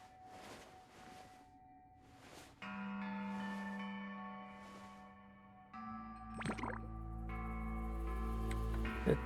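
Bells from the video game Genshin Impact ring out in a tonal, chime-like layer that grows fuller partway through, with sustained ringing tones and a brighter shimmering strike near the end, with no talking.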